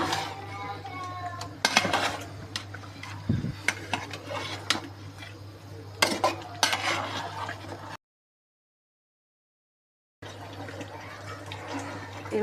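Beef is stirred in a covered cooking pot after the lid comes off. A spoon scrapes and clanks against the metal in irregular bursts, with a short silent gap partway through.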